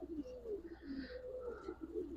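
A Giribaz pigeon coos softly in a short, low, rolling burst, close but faint, with no talking.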